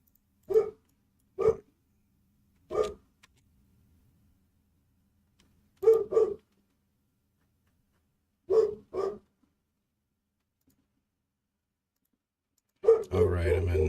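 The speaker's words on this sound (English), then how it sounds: "Can you hear my neighbor's dog?" A neighbor's dog barks in sharp, isolated single and double woofs from nearby, with long quiet gaps between them, before a burst of other noise at the end.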